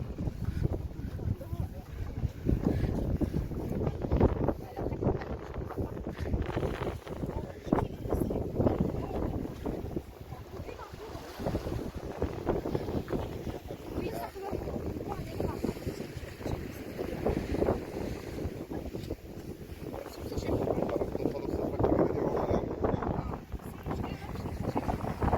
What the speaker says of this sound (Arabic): انا هسيبكم كده مع صوت البحر والجو تحفة تحفة تحفة